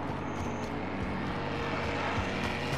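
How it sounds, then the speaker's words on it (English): An aircraft-style drone engine drones steadily overhead in Call of Duty Warzone, a constant loud propeller hum with no break across the clip. "Yeah, here comes that drone."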